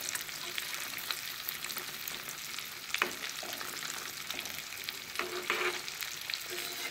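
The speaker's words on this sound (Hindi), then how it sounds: "ज़्यादा ज़्यादा पीस नहीं डालना है, कम कम ही फ्राई करना है।" Chicken pieces for KFC-style fried chicken deep frying in hot oil, a dense, continuous bubbling sizzle close to the pan with occasional louder pops and spatters.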